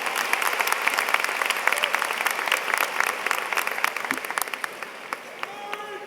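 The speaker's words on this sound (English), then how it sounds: "can we get another round of applause for our Stevenson Band" Sustained applause from a large crowd at a high school graduation ceremony, honoring the school band and choir, a dense steady wash of clapping lasting the whole stretch and thinning slightly toward the end.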